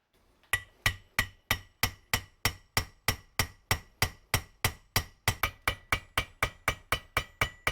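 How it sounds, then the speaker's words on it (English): A bolt is hammered onto a BMW N20 turbo wastegate pin to drive it down, about twenty-five sharp metallic strikes in a steady, quick rhythm, close and clear, with no talking. "I'm using a bolt to hammer on top, and we're gonna keep an eye on where the pin has to come out for this"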